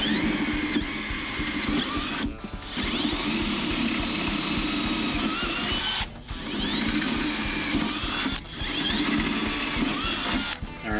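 A drill boring holes in 4130 chromoly steel for Kirkey race seat brackets in a Chevy Nova, with three long whining bursts separated by short pauses.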